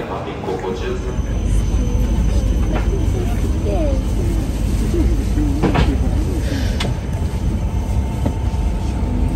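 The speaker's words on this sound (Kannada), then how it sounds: "ಟ್ರೈನ್ ಇವಾಗ ಮೂವ್ ಆಗಕ್ಕೆ ಸ್ಟಾರ್ಟ್ ಆಯಿತು." A Shinkansen Yamabiko bullet train on the Tokyo to Morioka line starts to move, heard from inside the cabin as a steady low rumble with faint squeals and clicks, while muffled voices murmur underneath.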